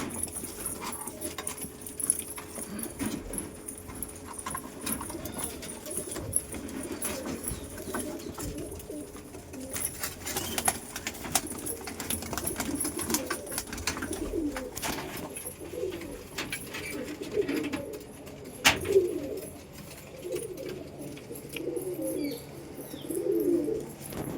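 Pigeons coo softly while female birds are fed. The low, repeated cooing is faint and continuous, mixed with light clinks and rustling nearby.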